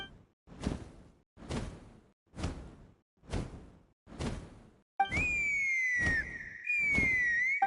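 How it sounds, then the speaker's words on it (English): In the video game Genshin Impact, five rhythmic whooshing swishes repeat evenly, then a loud, clear whistle cuts in, gliding and warbling for a few seconds in the foreground with no talk. "That sounded like a whistle."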